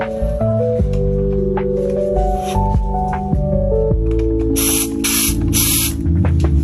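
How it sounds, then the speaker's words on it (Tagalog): An aerosol smoke-test can sprays into a fire alarm smoke detector in three close, loud hissing bursts of about a second each, heard over a steady electronic tone with a voice speaking briefly. "Itong smoke test natin, direkta natin papausukin dito sa detector para tumunog ang ating mga sounder."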